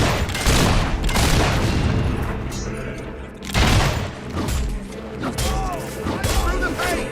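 Gunfire and heavy booms in a Fable 3 battle on Xbox 360, dense bursts of shots and thuds running almost continuously, loud and close, with a voice shouting over the din.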